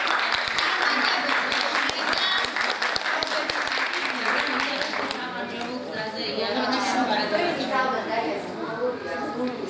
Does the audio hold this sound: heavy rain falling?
no